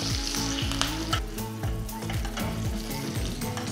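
Mustard seeds, cumin and broken red chilli frying in hot tempering oil in a small ladle, a steady close sizzle with quick popping crackles throughout.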